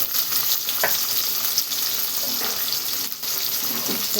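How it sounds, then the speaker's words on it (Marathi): Lengthwise-cut onion slices fry in a pan with a steady, close, dense sizzle and a few faint stirring scrapes, with no voices. "असं मस्त मी कांदा फ्राय करून घेणार आहे"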